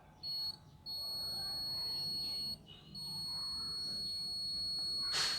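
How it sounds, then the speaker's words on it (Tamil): A homemade rain water alarm sounds once water touches a solar panel, a high, piercing electronic buzzer tone that cuts in and out in bursts, then holds steadily, with faint room noise underneath. "பாருங்கள், அலாரம் சவுண்ட் கேட்குது."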